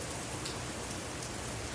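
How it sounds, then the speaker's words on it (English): Steady rain falls on a rainy day, a soft continuous hiss of drops with no other sounds. "looks like the rain's starting to pick up a little bit"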